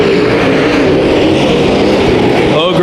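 Race cars roar together in a dirt-track heat race at Santa Maria Raceway, a loud, continuous engine drone with shifting pitch. The sound stays dense and close throughout.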